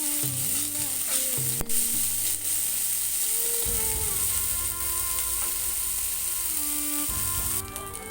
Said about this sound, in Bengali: এবার চিংড়ি মাছগুলো লবণ দিয়ে তেলে দিয়ে দেব। এটা ভালোভাবে মুচমুচে করে ভেজে নেব।